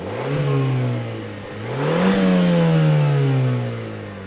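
A 2021 Mazda CX-30 turbo engine revs up twice with a deep turbocharged exhaust note, the pitch rising and falling between blips, loud and close, no voices.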